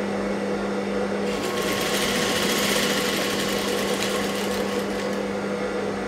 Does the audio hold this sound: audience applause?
no